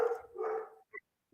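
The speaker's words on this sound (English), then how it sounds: "kids are coming home right now and the dog is barking." A household dog barks during an online school board meeting, two or three close, fairly loud barks that trail off into quieter yips, with no talking.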